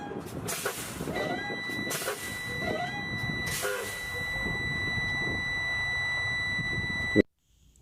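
A truck's low air pressure warning buzzer sounds as a steady high electronic tone inside the cab during a pre-trip check, holding for several seconds before cutting off abruptly, with brief clunks and rustles early on.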